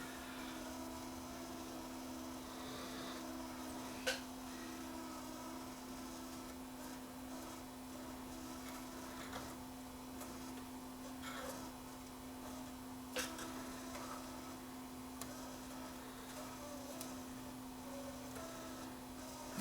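The take-up slip clutches of a JVC KD-V300 cassette deck make a faint, steady mechanical whir, broken by occasional soft ticks and clicks.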